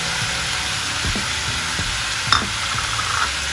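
Chopped onion and paneer fry in a pan while a spoon stirs them, a steady loud sizzle and hiss with scraping strokes and a few clinks of utensil on metal, close up and without speech.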